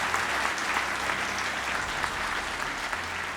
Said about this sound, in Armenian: Ծափարենք բոլոր լավագույն մասնագետներին, որոնք այսօր այստեղ են նաեւ